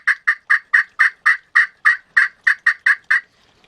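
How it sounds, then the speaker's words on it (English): A custom-made turkey call played with a striker yelps in a quick, even series of about fourteen clear notes, close and loud, then stops. "you don't have to move your striker very far to get that yelp"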